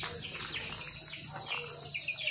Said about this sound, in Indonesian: mungkin teman-teman kangen dengan suara jangkrik ngerek ya